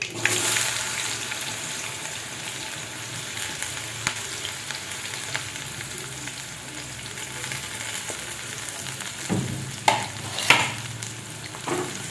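Chopped onion fries with crackled mustard seeds and cumin in a pan, an even close sizzle with stirring and a few sharper spoon clatters toward the end.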